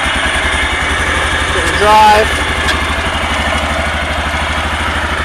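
A UTV engine idles with a fast, even mechanical thrum and some clatter, the machine raised with its rear wheels off the ground and the transmission cover removed. A voice speaks briefly over the engine, and a short whining rise comes midway.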